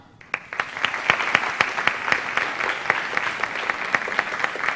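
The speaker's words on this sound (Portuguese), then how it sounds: "uma salva de palmas para Tanise Stein." Applause from an audience welcoming a guest at a youth event, many hands clapping at a moderate distance, starting abruptly and continuing steadily for several seconds.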